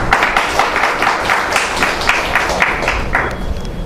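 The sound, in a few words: applause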